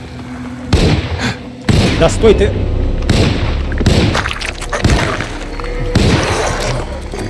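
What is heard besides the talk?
gunshots fired in the video game Alone in the Dark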